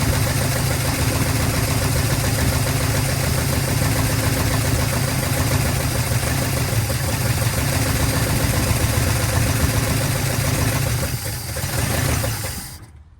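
The 383 big block V8 in a 1970 Dodge D100 runs loud and rough at a steady idle for most of the stretch, then stumbles and sags before it dies near the end.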